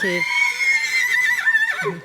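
A champion racehorse at a stud farm gives one long, loud whinny with a wavering pitch, close by and clear, with nothing else heard over it.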